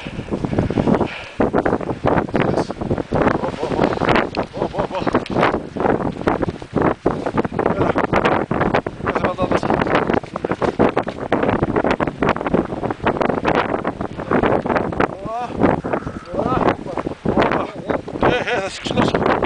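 Strong outdoor wind buffets an open microphone in loud, rough gusts that rumble and crackle almost without pause, with people talking underneath.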